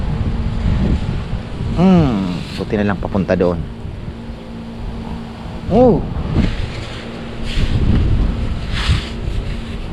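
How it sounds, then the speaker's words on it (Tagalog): Strong wind buffets the microphone on a papaya farm, a low, gusty rumble running throughout while someone talks in bursts over it. "Yan, lakas ng hangin."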